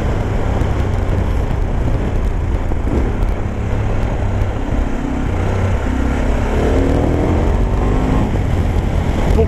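An SWM Superdual 650 T single-cylinder motorcycle rides and slides on loose ground, its engine a constant loud, rumbling drone with wind buffeting throughout and no pauses, heard up close from the rider's position.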